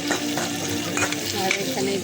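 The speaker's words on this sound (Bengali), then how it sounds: "বেগুন ভাজি করতেছি" Eggplant slices fry and get stirred in a pan, a steady close sizzle broken by repeated scraping stir strokes throughout, with no voices.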